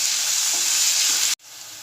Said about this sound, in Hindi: इस प्याज को हम तेल में नरम करेंगे, लाल नहीं करेंगे, सिर्फ नरम होने तक इसे प्याज में हम फ्राई करेंगे।